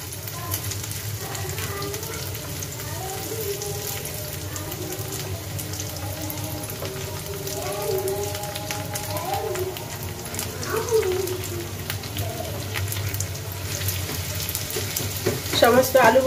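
Potato fritters made from potato peels fry steadily in hot oil in a pan, a continuous close sizzle with scattered pops and bursts, briefly louder near the end, with faint clinks of a utensil and no talk.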